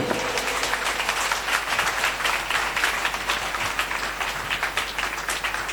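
A large congregation at a Christian worship gathering claps steadily and loudly, a dense sustained applause with no talking over it.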